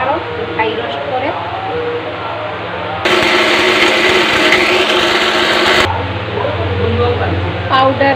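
An electric spice grinder whirs loudly for about three seconds as it grinds dry-roasted garam masala spices into powder, with kitchen sounds before and after.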